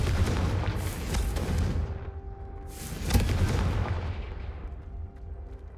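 Two heavy blasts from a Confringo fire spell in a Hogwarts video game, each a loud booming burst with a rumbling tail, spaced a few seconds apart with no talk.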